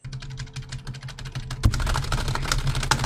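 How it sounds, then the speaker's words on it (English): Computer keyboard keys clatter in quick, irregular taps, starting light and sparse, then turning into louder, busier typing. "Keyboard noises."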